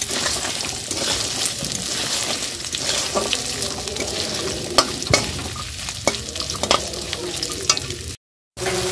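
Spices sizzling and frying in a pan as ghugni masala is cooked down in a home kitchen, with the crackle running steadily under intermittent sharp scraping stirs and clinks of a spatula, close up and with no talking.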